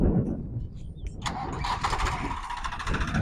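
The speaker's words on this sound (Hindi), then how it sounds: "सुधीर भाई भी अपनी जोर आजमाइश करेंगे और देखेंगे कि उनका ट्रैक्टर किस किस लेवल पर कैसे कैसे परफॉर्मेंस देगा" A Farmtrac 60 tractor engine starts in a farm field. A brief starter crank catches about a second in, and the engine settles into a close, steady mid-pitched idle.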